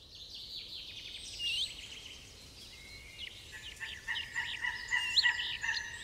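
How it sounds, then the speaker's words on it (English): Two young bald eagle chicks call in a nest by a freshwater tidal river, giving thin, high, repeated chirping peeps that grow busier and more overlapping toward the end, fairly faint over a low outdoor rumble. "Two quarreling bald eagle chicks."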